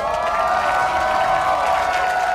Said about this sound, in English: Very large fan bases, as you can hear in the crowd.